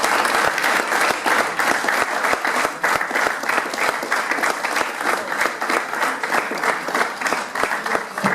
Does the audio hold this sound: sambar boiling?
no